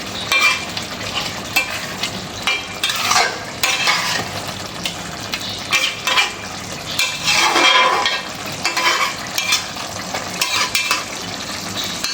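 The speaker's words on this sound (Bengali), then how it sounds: "আর এখানে আমি গোটা জিরে একটু ভেজে নিচ্ছি" Whole cumin seeds fry in a pan, a loud, close, continuous sizzle broken by stirring scrapes and occasional utensil clinks.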